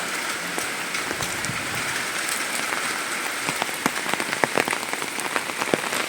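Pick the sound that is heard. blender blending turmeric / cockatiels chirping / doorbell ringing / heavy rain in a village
heavy rain in a village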